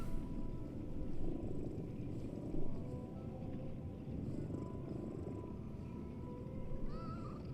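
A cat from the video game Lies of P purring in a steady, close, rumbling loop that runs the whole time, with faint higher game tones drifting over it and no speech.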